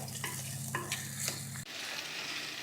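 Ghee tempering sizzles in Punjabi-style sarson ka saag while being stirred, a close crackling fizz with scraping strokes and a lower rumble that drops away midway, leaving a softer sizzle.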